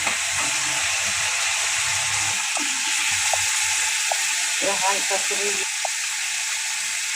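Potato pieces fry in a pan for a ridge gourd, potato and poppy-seed curry, giving a steady close sizzle with a few faint clinks and some talking over it.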